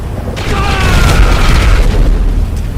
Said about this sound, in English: Can I detonate the bombs while the other one is not detonate?